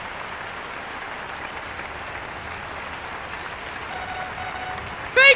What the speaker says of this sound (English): give a round of applause for world-famous pop musician